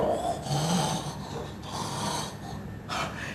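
A preacher imitates snoring during a church sermon: loud, rasping snorts drawn out over several breaths, close and harsh.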